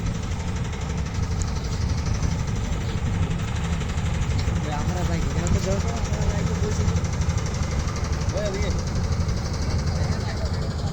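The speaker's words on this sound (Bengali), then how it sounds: "এই যে একটা ট্রলার যাচ্ছে।" A trawler boat engine chugs steadily throughout near a beach at Char Kishoreganj, a constant low rumble with faint voices and some background noise, no clear rise or fade.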